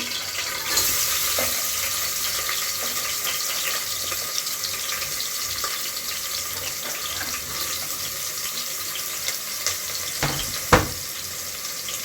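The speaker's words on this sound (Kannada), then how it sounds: "ಎಣ್ಣೆ ಕಂಪ್ಲೀಟಾಗಿ ಕಾದಿದೆ ಹಸಿರು ಮಿರ್ಚಿಗೆ ಕಟ್ ಮಾಡಿ ಇಟ್ಕೊಂಡ್ವಲ್ಲ ಅದನ್ನ ಸೇರಿಸ್ಕೊತಾ ಇದ್ದೀನಿ" Green chillies and onion dropped into fully heated oil give a steady, close hiss and crackle of frying, with a few sharper pops and a louder burst near the end, no voices.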